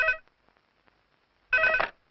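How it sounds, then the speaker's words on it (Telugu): A telephone in a movie scene rings with two bursts of a harmonic electronic bell tone separated by a silent gap, clear and close, with no speech. "అదిగో ఆయన ఫోన్."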